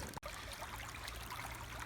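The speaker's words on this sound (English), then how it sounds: "Put the sluice in there where the water is running" Stream water runs through a gold sluice set where the current is slow, making a steady, close trickling rush that continues without pause, with no voices.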